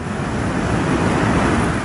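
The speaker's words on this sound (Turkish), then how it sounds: "kıyı kesimlerde dalgalar sahilleri dövdü" Storm-driven sea waves pound the beach at Alanya after heavy rain, a steady loud roar of surf that fills the clip without pause and with no voices.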